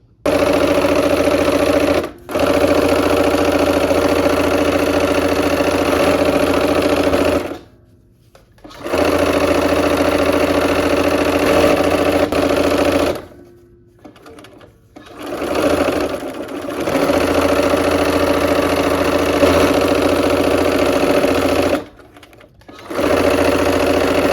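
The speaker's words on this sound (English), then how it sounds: "let's go ahead and sew these together now" A sewing machine stitches quilt blocks together in loud, steady runs, stopping briefly several times before starting up again, with no talking.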